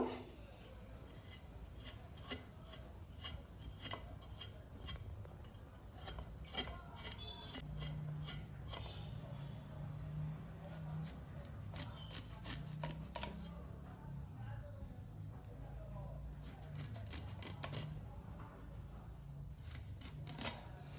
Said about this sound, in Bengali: এই কুদরিগুলিকে আমি উপরে কোষাটা ছাড়িয়ে নেব